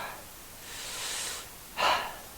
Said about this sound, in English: Some great circular breathing